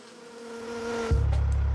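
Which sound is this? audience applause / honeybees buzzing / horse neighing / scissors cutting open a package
honeybees buzzing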